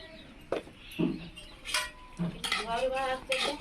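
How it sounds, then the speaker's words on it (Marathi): Prawns with a little oil are stirred and roasted in a pan over a wood-fired chulha, giving scattered scrapes and clinks of a utensil against the pan at close range, with short bursts of brighter scraping and no talk. "असं भाजून घ्यायचं जास्त मिनिट नाही एखाद्या मिनिट असं फिरून घ्यायचं"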